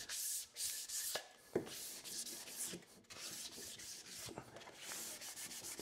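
Wet sanding of wooden chair rails by hand, steady close back-and-forth rasping strokes with a short pause near the middle, fairly quiet and with no one talking.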